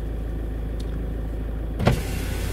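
The electric power window motor of a Volvo lowers the window with a steady, quiet whir over a constant background hum, ending in a brief louder clunk as the glass stops.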